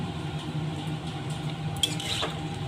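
A drumstick and potato curry with mustard paste, salt and sugar is stirred in a pan, giving soft, continuous shuffling over a steady simmer. A brief louder scrape of the utensil comes toward the end, with no voices.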